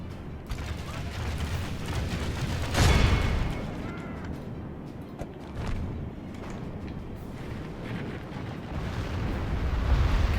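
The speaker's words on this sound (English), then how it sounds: "Catapults are shooting so high over. Oh, that's a good hit." Catapults firing and striking during a siege battle for Edoras in Third Age: Total War, with booming impacts and mechanical rumble over constant battlefield noise, one heavy hit standing out near the middle.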